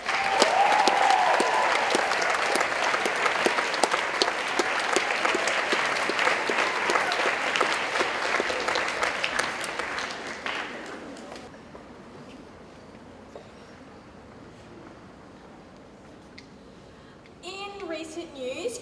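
Audience clapping at a school assembly, a dense, loud burst of many hands lasting about ten seconds, then fading into a quiet room before a voice begins speaking near the end.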